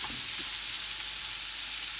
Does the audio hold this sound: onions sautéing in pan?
yes